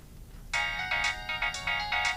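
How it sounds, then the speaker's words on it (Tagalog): A mobile phone ringtone starts after a brief quiet moment and loops as a bright, repeating electronic melody of short pulsing tones, clear and steady, with nobody talking. "Agre-ring ti cellphone ko."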